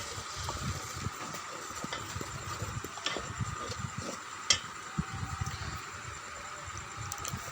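Spices being stir-fried again after a splash of water, for a village-style beef curry; soft sizzling with repeated spatula scrapes and knocks against the pan, fairly quiet and continuous.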